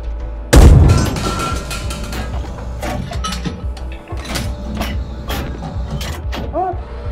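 An M1IP tank's main gun fires in the tank game GHPC, giving one sudden heavy boom followed by a decaying rumble, then mechanical clanks, creaks and interior machinery noises over a steady engine hum.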